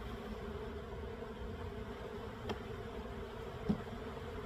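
Honey bees in a hive box during a varroa mite check give a steady, low, even buzz, with a couple of brief soft knocks.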